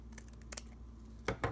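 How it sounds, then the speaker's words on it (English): Scissors snip through the edge of a journal page in a quiet room: a few faint, small clicks, then two sharper snips near the end, close and soft. "Now I'm going to go ahead and cut this edge off."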